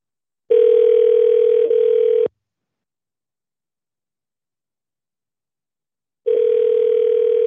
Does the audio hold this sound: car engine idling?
no